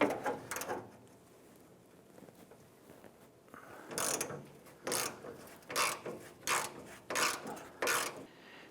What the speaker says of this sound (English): So I'm going to use my 10 millimeter deep socket and my ratchet.